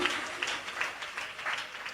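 A church congregation claps together in a quick, fairly even rhythm, the applause sounding slightly distant and moderately quiet.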